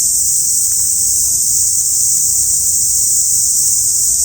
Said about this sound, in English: I don't know if that's why the cicadas are so loud.